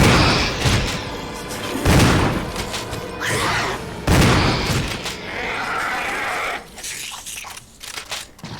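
Heavy gunshots ring out in Resident Evil HD, several loud booming blasts at irregular intervals with thuds and crunching impacts and game effects in between.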